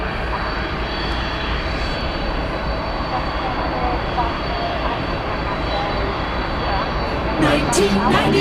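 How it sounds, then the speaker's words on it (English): A Boeing 767 jet engine gives off a steady, sustained whine and roar at an airport, holding at an even level throughout, with a brief rise near the end. "there's the source of that whine you might have heard in the background. 767, flight 765"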